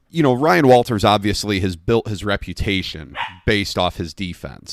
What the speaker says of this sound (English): Sorry for the dog bark there.